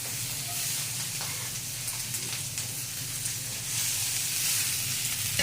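Vegetables sizzle steadily in smoking-hot olive oil in a pan for breakfast, a continuous bright crackling hiss that swells slightly toward the end, with no talk over it.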